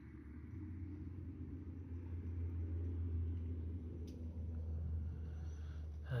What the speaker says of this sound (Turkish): Araba sesleri geliyor gerçi. Yol var şurada ileride.